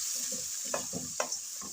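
Chicken curry frying in a pan, a brief hiss of sizzling with a few soft stirring scrapes and taps of a spoon.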